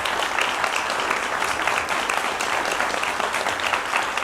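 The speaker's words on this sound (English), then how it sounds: "A little applause, I think." A room full of listeners at a Brahms piano trio masterclass breaks into steady, dense applause, a continuous even clapping throughout.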